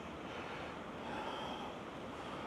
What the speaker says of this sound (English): That tiny little waterfall.